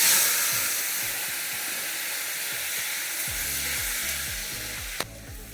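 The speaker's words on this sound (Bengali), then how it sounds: "একটু ভেজে নিই সুন্দর করে, এখন একটু ভেজে নেব।" Boiled potatoes and taro fry in spiced oil, a loud, dense sizzle that stays strong throughout and tapers slightly, with a low rhythmic rumble underneath and a single sharp clink near the end.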